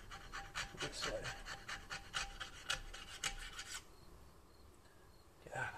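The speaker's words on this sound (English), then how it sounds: "if I keep scraping it, I'm going to end up gouging it" Steady rasping strokes of a scraper worked across a 1995 Jeep Cherokee XJ replacement cylinder head, close and rhythmic for several seconds before pausing, with a brief resumption at the end.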